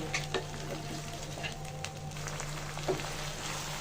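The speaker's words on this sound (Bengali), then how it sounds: "ভালো করে কাঁচা মশলাটা ভেজে নেব" Raw ground spice paste of ginger, garlic and cumin frying in oil for a chicken gizzard and liver bhuna, a steady soft sizzle with occasional stirring clicks, close up and without speech.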